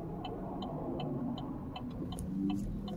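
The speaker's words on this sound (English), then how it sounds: "Got to be super careful here because there's traffic coming." Road traffic passes by a theme park, a steady low rumble of vehicles throughout. A soft repeated ticking sits over the engine noise.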